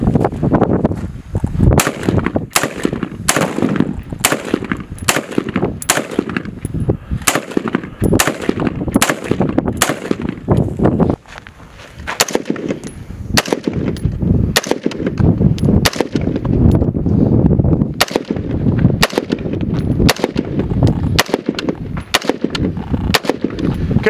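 Repeated rifle shots fired by National Guard soldiers at a shooting range competition, sharp loud cracks in irregular bursts with short gaps, several shooters overlapping at close to moderate distance.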